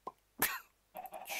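A person coughs several times in short, harsh bursts: one small cough, a louder rasping one, then a rougher run of coughing, close and alone with no talk.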